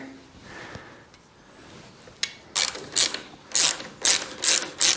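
A ratchet wrench tightens the battery bracket on a Harley-Davidson Sportster, first with a few faint clicks and then with five or six loud, close bursts of rapid ratcheting in short strokes.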